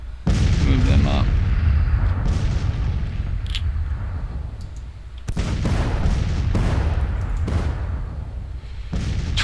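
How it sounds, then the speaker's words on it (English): A 12-pound Blakely rifle cannon fires on a Grand Tactician battlefield: heavy booms roll out at intervals and leave long, rumbling tails, with artillery continuing in the background and a voice speaking during part of it. "12-pound Blakely rifle."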